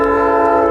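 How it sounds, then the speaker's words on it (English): A passing train's horn blares loud and close in one sustained, steady multi-tone blast with no other sounds over it. "There's another train."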